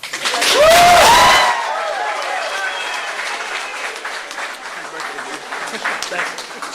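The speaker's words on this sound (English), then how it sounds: "Can I get an applause for my dad?" A crowd applauds at a college football commitment announcement, starting with a loud burst of cheering and clapping plus a brief whoop, then settling into steadier, quieter clapping that continues to the end.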